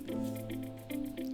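Liquid drips during a hot filtration of a mixture in a chemistry lab, with several soft, close drips and faint squishy trickles over a steady low hum, no voices.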